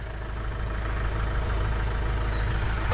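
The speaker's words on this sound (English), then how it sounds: "It's a tractor." A new tractor's engine idles steadily, a close, even, low rumble that holds constant throughout with no talk over it.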